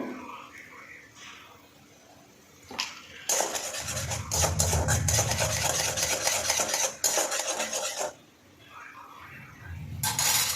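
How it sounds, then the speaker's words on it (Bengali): Spice masala with salt and turmeric stir-fried in a pan: quiet scraping at first, then a loud stretch of sizzling and vigorous spatula scraping against the pan for several seconds, easing off before scraping picks up again near the end. "তো দিয়ে মশলাটা ভালোভাবে কষিয়ে নেব"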